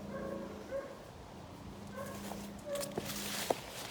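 A dog gives faint, thin whimpers and soft yips through a quiet, woodland-like background, with a couple of sharper short sounds near the end; no one speaks.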